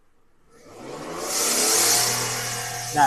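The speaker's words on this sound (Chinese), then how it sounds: "所以会有那个呼呼呼那个气的声音。" A Toyota Crown parked in P is revved to about 4000 rpm with a blocked exhaust pipe leaking gas midway. The engine roar climbs from quiet to a steady, loud, airy drone, then a brief spoken word.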